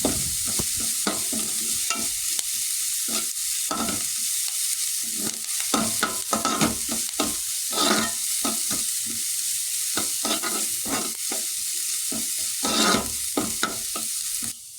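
Shallots, green chilli, garlic and curry leaves stirred in a hot oily pan for a Kerala curry, with a steady loud sizzle and repeated scraping strokes of a spoon throughout, close up with no talking.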